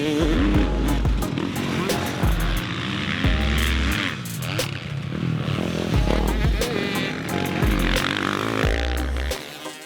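A Husqvarna, GASGAS or KTM motocross bike ridden on a dirt track, its engine revving loud and buzzy in repeated surges and drops as the rider works the throttle and gears.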